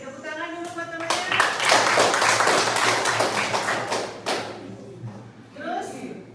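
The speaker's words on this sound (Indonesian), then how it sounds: "Tepuk tangan dulu buat temannya." A class of children claps for a classmate in a religious studies lesson, a dense burst of hand claps lasting several seconds, then tapering off into a few scattered claps, with a teacher's voice at the start and end.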